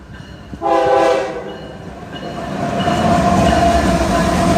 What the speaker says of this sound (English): That is an extremely foul horn.